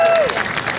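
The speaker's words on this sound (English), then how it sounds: "let's give her another round of applause." A crowd at an anniversary Women's March rally in Wilmington claps in a short, close burst of applause mixed with a faint voice.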